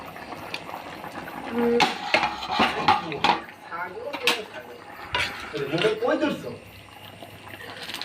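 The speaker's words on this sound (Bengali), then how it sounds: "এবার ঢাকনাটা তুলে দেখলাম" A metal lid comes off a cooking pot of bean seeds simmering with tomato, making a few clanks and clatters. A faint bubbling follows, and a voice talks quietly over parts of it.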